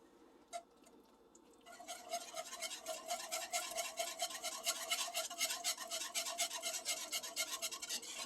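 A utensil stirring cheese through mac and cheese sauce until it melts, with steady rhythmic scraping and rubbing strokes against the pot, close and continuous after a quiet start.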